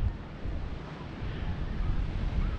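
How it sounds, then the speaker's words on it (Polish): Wind blows across a clifftop on the Dorset coast, buffeting the microphone with a low, steady rumble. The gusty roar is moderate in level and stays alone, with no speech. "Wiatr troszeczkę wieje"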